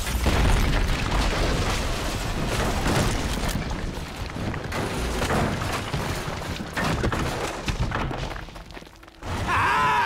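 A wooden deck collapses in GTA 5 after being pulled down, giving a sustained loud crashing rumble with heavy booms and thuds that continues for several seconds, then cuts briefly before the noise resumes.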